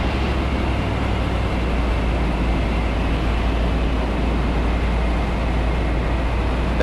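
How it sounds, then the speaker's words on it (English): Steady, loud engine drone inside a Super Petrel light amphibious aircraft on a descent approach, a dense constant rumble with a low hum underneath and no speech. "That engine power where we just hear it start to rumble."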